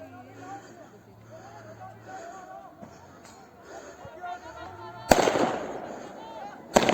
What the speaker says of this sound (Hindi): हवाई फायरिंग की